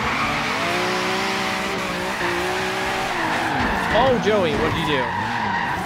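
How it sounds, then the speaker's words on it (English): Tires squeal and skid in Forza Horizon 3 as cars drift in tandem, with a loud, sustained screech whose pitch wavers and bends. A voice exclaims over the screech near the end. "roasting the tires before here"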